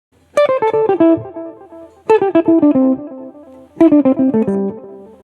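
A clean electric guitar plays a pentatonic pattern in three quick descending runs of plucked notes, each burst separated by a short pause, with no talking.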